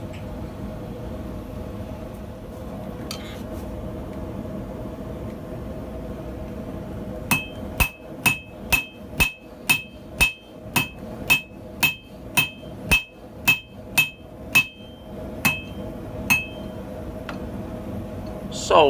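A hammer rings against steel on a cheap Acciaio anvil while forging tongs, a quick, even series of about fifteen sharp metallic strikes after a stretch of low background hum.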